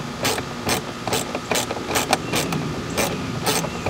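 Ratchet with a 2-inch extension backing screws out of a 2015–2020 Ford F150 dash, with quick repeated clicking bursts up close and steady rhythm.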